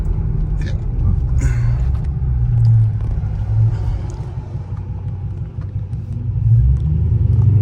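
A Dodge Scat Pack's engine rumbles low and steady while cruising, a continuous deep drone with mild swells in loudness and no talk.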